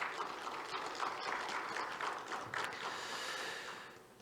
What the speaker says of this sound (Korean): 우리 한번 격려의 박수 하겠습니다